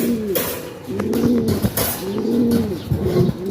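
Close, repeated soft throaty cooing from pigeons, several rolling coos in a steady rhythm with no talking.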